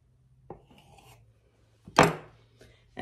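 A knife cuts through homemade goldfish cracker dough on a board with a few soft scraping, chopping strokes, then a louder cut near the end, close and quiet in an otherwise still kitchen.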